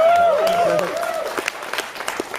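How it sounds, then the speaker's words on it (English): An audience at a comedy performance gives a short round of applause. A voice carries over the start, then scattered claps build in the background. "round of applause for that."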